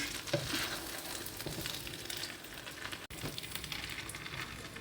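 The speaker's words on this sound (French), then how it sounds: "Alors, je mélange bien pour que les légumes soient bien mélangés avec le riz" Rice and vegetables are stirred in a hot pan, a quiet, steady frying sizzle with soft scrapes and an occasional tap of the utensil, close up and without voices.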